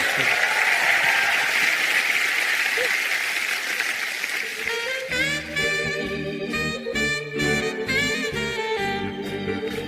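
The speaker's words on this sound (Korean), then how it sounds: "한번 박수를 청해 볼까요?" A studio audience at a Korean music talk show applauds loudly for several seconds, then the clapping gives way to music playing under lingering scattered claps.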